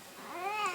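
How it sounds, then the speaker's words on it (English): A pet cat gives a single faint, rising meow, quiet and close, with soft room noise behind it and no one talking. "Come here, Kitty"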